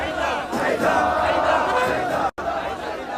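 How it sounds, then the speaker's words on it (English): Crowd and marching parade chanting the name Haidar in unison during a Muharram mourning procession in Karbala, a dense, loud, continuous mass of voices close by with a brief cut near the end. "The crowd and the parade chant the name Haidar"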